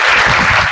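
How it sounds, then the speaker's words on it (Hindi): A short, loud burst of applause from students at a government school career guidance session, a dense wash of clapping with no voice over it. "ताली बजा दो।"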